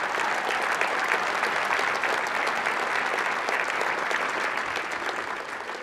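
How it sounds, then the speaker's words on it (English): Audience at an evening school-fundraiser presentation breaks into sustained applause, a dense, even wash of many hands clapping that holds steady before easing slightly toward the end. "Can we give all of these a round of applause?"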